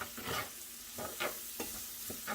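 Salted butter is stirred into onions sautéing in oil, making rhythmic scraping strokes over a soft, continuous sizzle, close and moderately quiet.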